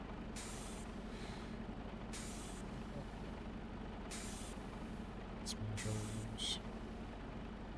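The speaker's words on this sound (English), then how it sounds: "that air on that trailer is highly annoying" Air brake hiss from a truck trailer in the video game Farming Simulator 25, several bursts of hissing air repeating over a steady low engine drone, with faint talk in the background.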